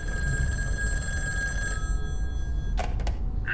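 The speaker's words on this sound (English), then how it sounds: "because just then, the phone rings." A telephone rings inside the psychological horror game In Sound Mind, sounding as a steady electronic bell tone over a low ambient rumble, breaking off near the end amid a few sharp clattering noises.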